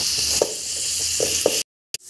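Onion and spices fry in a pan for an okra tagine, a close, steady sizzle with a few soft stirring knocks, then a brief cut to near silence before the frying returns.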